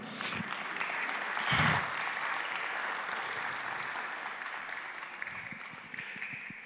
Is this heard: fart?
no